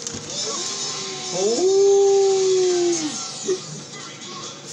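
In the video game Tatsunoko vs Capcom, a creature lets out a rising, drawn-out howl of a couple of seconds as it runs over a victim, heard over busy game noise.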